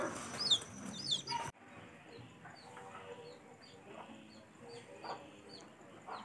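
Rhode Island chickens cluck and chirp intermittently at a moderate distance, with a soft ambient background and little talk.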